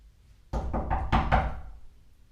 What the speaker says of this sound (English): we're changing the association of what knocking on the door means